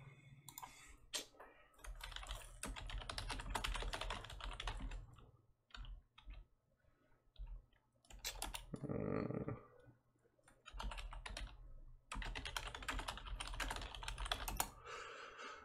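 Rapid clacking keystrokes on a computer keyboard come in bursts separated by short pauses, fairly close and moderately loud, with a brief muffled voice-like sound in the middle.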